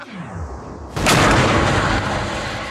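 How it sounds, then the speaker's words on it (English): A vortex cannon fires with a single sudden, loud boom, as an explosion at its base pushes out one pulse of air, leaving a broad rumbling roar that fades slowly. "An explosion in the base of the cannon creates a single pulse of air the shape of a donut."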